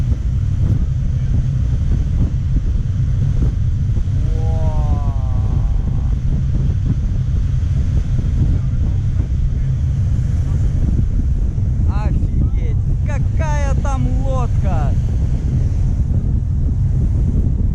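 A speedboat races fast across choppy sea waves off Ibiza and Formentera, its engine and hull roar buried in constant loud wind buffeting and spray noise, with brief bursts of talk in the middle and near the end.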